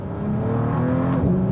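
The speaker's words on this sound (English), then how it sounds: "It actually makes a little farting, popping noise" A 2023 Bentley Flying Spur Speed with a 12-cylinder engine revs close by, its exhaust note rising and falling steadily for a moment with a rough, bubbling edge.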